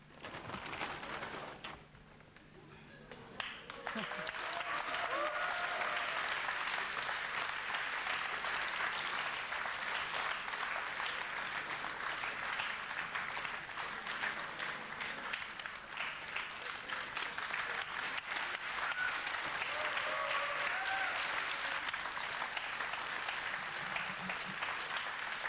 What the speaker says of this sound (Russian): мы аплодируем второму финалисту